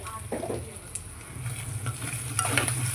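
Ginger garlic paste frying with coriander powder, cinnamon and cloves in a pan, a steady loud sizzle with occasional stirring scrapes close by and no talking.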